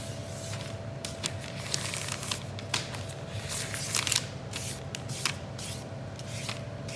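Lacquer sprayed from a spray gun onto the leather front seat of a Riley Pathfinder, heard as a steady close hiss with short bursts and pauses, running alone throughout with a faint low hum underneath.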